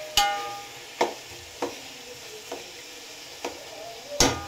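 Paneer sizzles slowly over a low flame in a pan for paneer dum biryani, with sharp spatula clinks or stirring knocks about once a second over a faint, steady fry.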